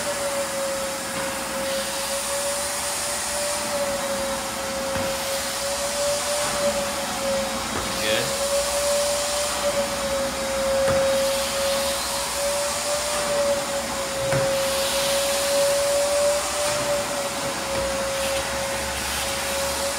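A wet vacuum roars steadily, sucking dirty stripping solution off a greasy vinyl composition tile restaurant floor, with a constant high-pitched motor whine and airy rush. Occasional bumps and scrapes sound through it.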